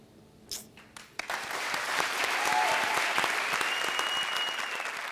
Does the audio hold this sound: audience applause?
yes